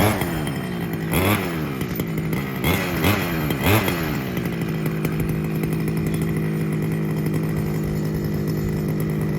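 Losi DBXL 2.0 gas RC car engine warming up, a loud buzzing two-stroke note that revs sharply several times early on, then settles into a steady close idle.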